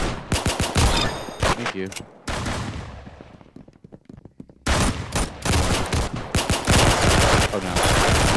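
Dense automatic gunfire in a Call of Duty–style gun game mode, loud rattling bursts near the start, a lull with scattered distant shots, then sustained heavy fire resuming, with a brief spoken line mixed in.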